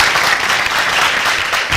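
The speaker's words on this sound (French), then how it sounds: "Applaudissez pour moi." TV studio audience gives a brief burst of dense, loud applause, many hands clapping together close and steady throughout.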